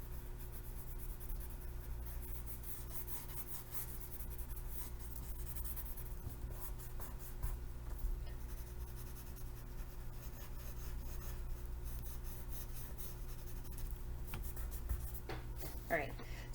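Pencil shading and rubbing on paper, medium then light pressure across a desert drawing, makes a soft, continuous scratchy rasp that carries steadily for over fifteen seconds with little break.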